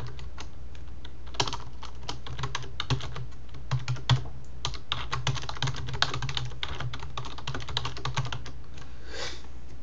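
Quick, steady typing on a computer keyboard while entering a Craigslist listing title, a close run of light clicking keystrokes with a few louder taps and no talk.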